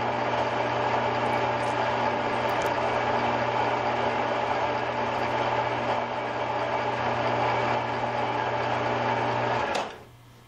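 A metal lathe runs steadily while turning a taper with the compound rest, giving a loud constant motor whine and hum that winds down near the end.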